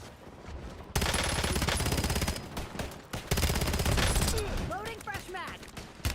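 Automatic and rapid gunfire from the video game Black Ops 7, loud bursts of shots and a dense fusillade with game effects, over a brief stretch of quieter lead-in.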